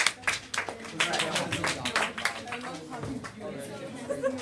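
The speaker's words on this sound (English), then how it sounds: "round of applause for the guy who survived" Scattered clapping from a small audience at a climate change session, breaking out in a brief burst amid lively chatter and laughter from the room.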